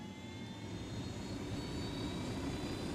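Helicopter in the video game Ghost Recon Wildlands, a steady droning engine and rotor roar holding at an even level throughout, with no talking.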